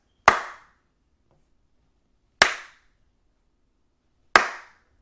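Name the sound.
three hand claps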